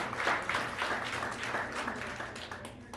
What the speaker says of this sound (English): That applause right there doubles as tonight's land acknowledgement.